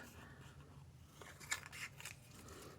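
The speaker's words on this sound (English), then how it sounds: "what we're going to do is we're going to cut it up" Scissors cut through an old paper calendar page in a few crisp, quiet snips close by, with a faint low background hum and no talk.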